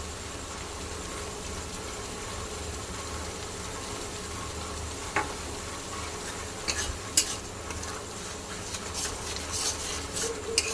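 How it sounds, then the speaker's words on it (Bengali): Spices being stir-fried in a pan for biryani, a steady scraping stir over a constant low sizzle, with a few sharper clinks of the utensil against the pan near the end. "মশলাগুলো দিয়ে দিলাম। এবার ভালোভাবে কষিয়ে নেব।"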